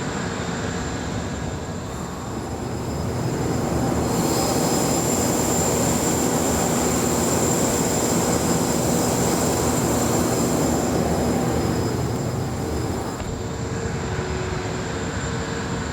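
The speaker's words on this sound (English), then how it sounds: "Our jet engine is inside of here" A jet engine runs indoors behind an opened door, a loud, steady roar with a high whine on top that swells after a few seconds and holds constant throughout.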